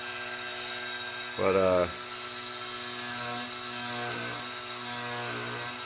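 A high-speed ATC spindle on an SX2 mill conversion, direct drive with a non-press-fit bearing, whines steadily at over 10,000 RPM, with a brief lower-pitched strain as load touches the spindle nose; a voice speaks briefly.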